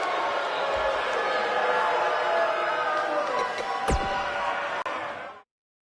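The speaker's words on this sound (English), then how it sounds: "We've got an animated crowd here tonight, as we usually do when we're in Orlando." Wrestling arena crowd cheers steadily in a WWE video game during an NXT show in Orlando, a dense sustained roar with a rising whistle near the end before it cuts off.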